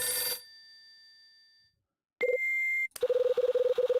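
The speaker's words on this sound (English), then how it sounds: "this is a bad time for the phone to ring" Telephone ringing in the video game Last Window: a short burst of rapid electronic trilling, a pause with a fading tone, then a longer stretch of fast pulsing rings, loud and close with no talk.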